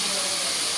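Raw chicken dropped into a pan of fried onions, giving a loud, steady sizzling hiss that lasts under a second.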